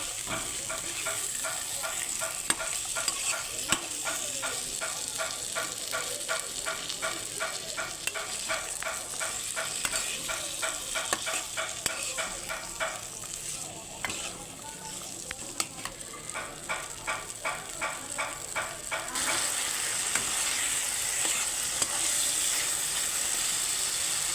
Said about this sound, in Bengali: এখন আমি টমেটো আর মটরশুঁটি দিয়ে দেবো দিয়ে আবারও নাড়তে থাকবো